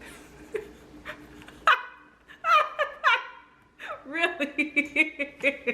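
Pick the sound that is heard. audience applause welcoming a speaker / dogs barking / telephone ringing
dogs barking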